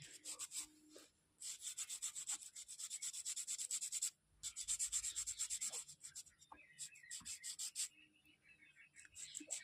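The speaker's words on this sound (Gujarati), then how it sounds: "આ રીતે બધા નખને તમારે પહેલાં તો બફ કરવાનું રહેશે, બફિંગ." Nail buffer rubbing across artificial nails in short, rapid back-and-forth strokes, a close, soft scratchy hiss repeating in bursts with brief pauses between passes.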